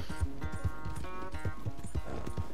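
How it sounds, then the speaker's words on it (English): Horse hooves gallop in Red Dead Redemption 2, a big powerful horse pounding out a quick, steady clip-clop rhythm close by over a constant game ambience, with no talk. "Big powerful horse!"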